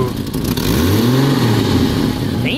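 A 1989 Jeep Cherokee engine with a Banks Revolver header revs up hard and loud, its pitch climbing and falling, with a raspy exhaust note close by.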